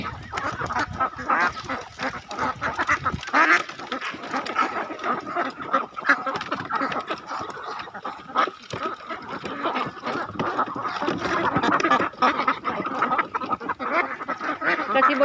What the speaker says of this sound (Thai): เป็ดสวยค่ะเป็ดสวย